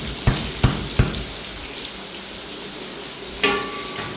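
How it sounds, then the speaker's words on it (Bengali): Chopped onion dropped into hot oil in a pan for a vegetable dish, a continuous close sizzle with a few sharp clatters of the spoon near the start and one more later. "তেলটা গরম হওয়ার পরে এখন আমি দিয়ে দিব পেঁয়াজ কুচি করে রেখেছিলাম"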